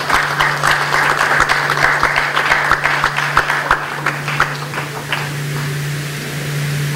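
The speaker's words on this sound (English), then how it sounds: "They deserve a very special round of applause." Audience applause fills a memorial hall after a play, dense steady clapping that holds strong for several seconds, then thins out and fades toward the end.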